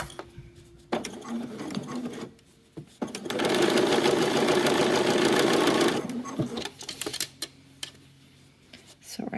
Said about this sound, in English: I'm going to go ahead and sew this little section independently on both sides